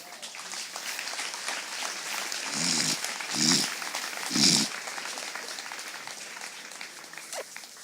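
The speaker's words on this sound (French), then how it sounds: "On acclame le Seigneur." A church congregation applauds and acclaims the Lord with soft, steady clapping heard at a distance, rising in a few short swells of cheering voices midway.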